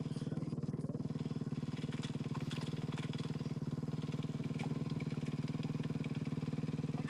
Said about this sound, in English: this is Skylar Howes here, one of the Monster Energy Honda team riders over there, getting ready to go